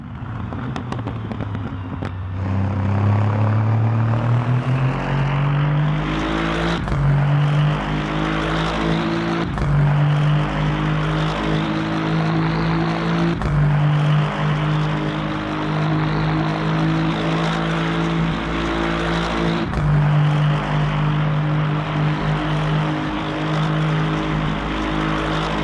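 A GT3 race car engine in the Le Mans Ultimate racing game drones loudly and continuously, rising through the revs with brief dips at each gear shift.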